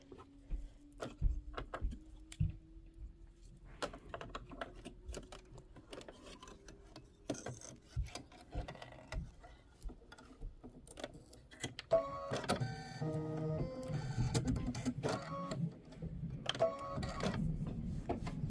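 An embroidery machine stitches out a quilt block design, its needle ticking in a quick mechanical rhythm that grows louder and busier partway through, steady and close with no talk.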